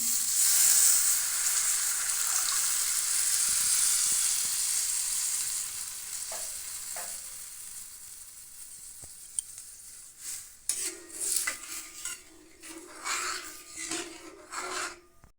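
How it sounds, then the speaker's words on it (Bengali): Water poured into a hot pan while cooking a Bengali fried pitha dish, giving a loud hissing sizzle that slowly fades, followed by quieter scraping and stirring sounds. "এতে আমি জল দিয়ে দিচ্ছি"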